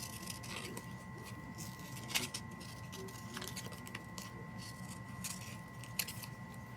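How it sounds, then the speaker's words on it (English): Scissors cut out a paper "For You" gift tag in a steady run of soft, close snips and crisp paper rustles over a faint background hum, with no voices. "Maybe we'll cut out this "For You" tag."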